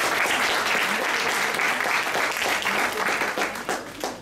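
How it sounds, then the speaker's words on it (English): An audience claps for table topic speakers at a speaking club meeting, loud, dense and sustained applause that thins out and tapers off toward the end. "You all deserve a round of applause."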